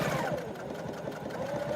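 A sewing machine runs steadily as it back stitches through the layers of a fabric tote bag, a close, continuous mechanical whir and patter with no talking.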